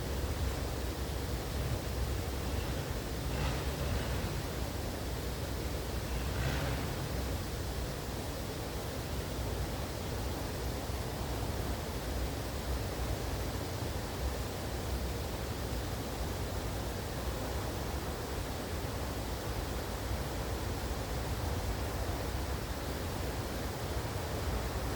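A waterfall rushes in a steady, unbroken roar for the whole stretch, with no voices and only a couple of faint clicks near the start.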